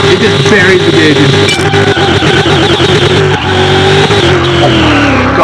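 A 7500 hp drag car launching off the line in Car Mechanic Simulator 2021, a very loud engine roar with screeching tires that rises in pitch, voices faintly audible underneath.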